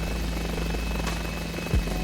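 Mini 500 helicopter engine in Microsoft Flight Simulator, a steady close rotor and engine drone with a constant hum that holds through the whole moment, ending in a brief low thump.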